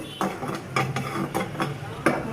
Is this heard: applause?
no